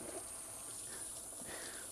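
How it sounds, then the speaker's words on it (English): Water runs steadily from a tap to bathe a Goldendoodle, a continuous close hiss and gush that fills the whole stretch without pause. "So I'm gonna get the water going."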